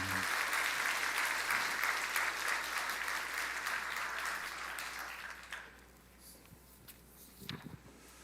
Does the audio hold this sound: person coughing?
no